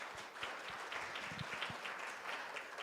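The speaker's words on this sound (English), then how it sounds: "Let's clap it up for all of us." A crowd at a campus gathering applauds themselves, a faint, steady wash of clapping that holds evenly throughout at a distance.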